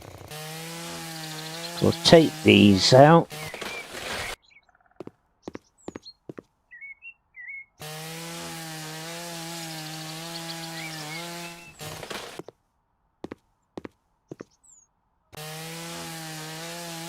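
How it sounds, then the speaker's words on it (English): Chainsaw in the video game House Flipper Remastered cutting through fixtures, a buzzing motor whine in bursts separated by silent gaps, loud and close, with someone talking over part of it. "Where's the chainsaw?"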